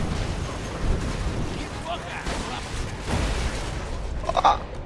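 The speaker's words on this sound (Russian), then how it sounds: "Они еще и взрываются в конце." Enemies in the Borderlands 2 video game blow up with dull, rumbling booms under constant noisy combat, loud and layered, with one sharper blast near the end.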